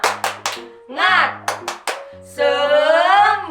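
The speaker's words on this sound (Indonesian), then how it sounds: "1, 2, 3, tepuk semangat." Sharp claps in a quick patterned rhythm, several children's hands together at Sunday school, alternating with children's voices chanting in between.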